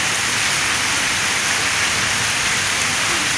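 Heavy rain pours down steadily in a village in Punjab, Pakistan, a dense, loud hiss of drops on surfaces with no pauses throughout.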